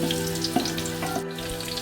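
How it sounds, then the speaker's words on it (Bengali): Chana dal frying in a pan for sweet halwa, a steady, close sizzle with faint stirring running throughout. "এটা দেওয়ার পর কিছুক্ষণ ভেজে নেবে"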